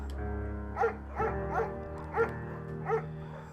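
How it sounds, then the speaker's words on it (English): An undersized beagle in the game Firewatch barks four times at uneven intervals over a low steady background hum, moderately close, with no talk. "It's a undersized beagle."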